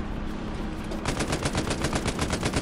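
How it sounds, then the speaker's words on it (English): Tank cannon and machine-gun fire in the World War II shooter Hell Let Loose, a steady rapid burst of loud, evenly spaced shots starting about a second in over rumbling battle noise, with no talk. "Is that our tank shooting at us, or...?"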